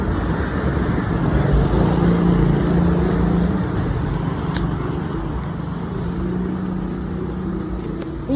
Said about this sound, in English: This is the time when these drivers be splashing water and things.